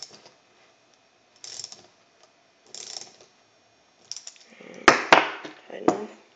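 Small clicking and ratcheting of a baitcaster fishing reel part being hand-tightened during cleaning and greasing, a few sparse close taps followed by a denser cluster of sharp mechanical clicks, quiet and isolated.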